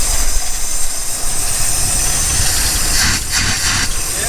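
A van engine drives along at about 20 miles per hour, a steady loud rumble with hiss and road noise throughout, swelling briefly near the end.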